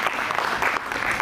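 Audience applause after a devotional song performance, dense clapping from a crowd heard close and loud, steady for about a second with no talk over it.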